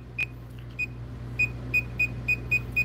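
A Klein or Ideal circuit tracer emits a string of short, clear electronic beeps, sparse at first then quickening into a regular rhythm, over a low steady hum.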